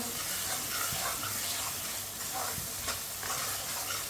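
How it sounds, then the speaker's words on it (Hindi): Green peas cooking in a pan with a vegetable mixture, a steady close hiss and sizzle with occasional soft stirring scrapes, no talking. "2 मिनट के लिए पका लेंगे मटरों को।"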